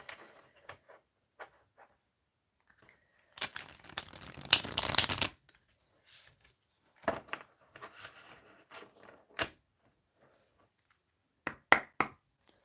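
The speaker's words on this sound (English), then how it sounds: "I'm going to do one more shuffle because they feel really locked together." Tarot cards being shuffled close up: scattered soft taps and slides, then a long riffling burst, followed by a few more quick shuffles and clacks.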